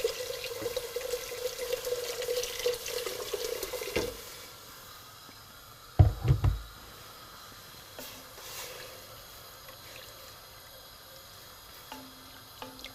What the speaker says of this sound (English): I'll add also some more water.